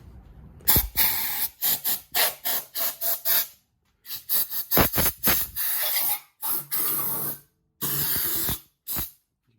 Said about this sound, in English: I might actually try a bit more here with the sander